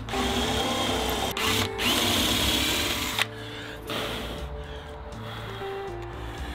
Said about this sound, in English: we're going to drill right over here for these ones